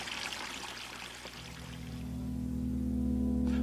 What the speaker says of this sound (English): When the plug is first pulled, water near the center of the bowl, where the internal motion is least, flows directly down